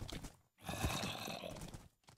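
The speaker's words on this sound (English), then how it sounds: "You should not be able to shoot your horse when you're on it." A Minecraft horse lets out a loud, close whinny after its own rider shoots it while mounted, a single drawn-out neigh bracketed by brief clattering game sounds.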